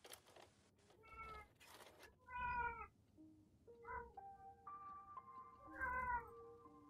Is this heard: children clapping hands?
no